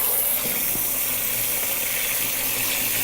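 Garden water pours steadily into a tank holding an iPhone 8 and iPhone 7, a continuous close gushing and splashing that stays even throughout with no talking.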